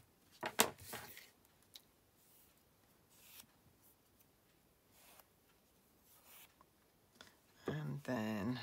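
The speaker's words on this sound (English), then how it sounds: "So let's just trim them off a bit." Paper card strips for a holly trio Christmas card are trimmed with scissors: a few quick, crisp snips and paper rustles near the start, then scattered faint handling noises and a louder rustle at the end.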